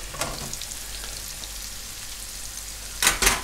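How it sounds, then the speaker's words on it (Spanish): Julienned vegetables being sautéed in a pot, a steady, fairly loud frying sizzle throughout, with a couple of sharp clatters of stirring near the end. "Continúa rehogando la verdura"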